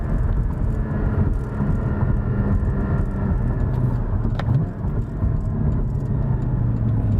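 A Porsche Cayman GT4 sports car accelerates hard on a back road to warm its tires, a loud steady engine roar heard from inside with a constant low rumble and no talking.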